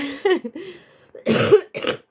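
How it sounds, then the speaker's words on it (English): A few harsh, close coughs in quick succession, with a short pause before two final hacking bursts. "The cough just started today."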